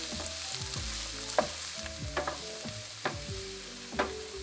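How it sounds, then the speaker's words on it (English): Garlic and onion sautéing in cooking oil in a large pan for gochujang risotto, a steady close sizzle with intermittent stirring scrapes and light clacks of the utensil against the pan. "heat 2 tablespoons of cooking oil in a large pan and saute garlic and onion until"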